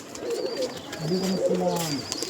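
Pigeons coo in a home loft, with a few soft, rolling calls overlapping closely and continuously, heard near and fairly loud with no talking.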